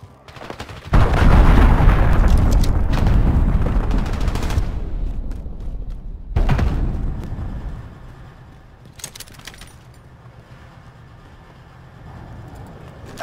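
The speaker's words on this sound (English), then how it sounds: "Allied cruise missile launched." Cruise missile strikes in a Call of Duty Modern Warfare 2019 team deathmatch, two loud, heavy booming blasts with long rumbling tails, followed by quieter distant bangs and battlefield noise.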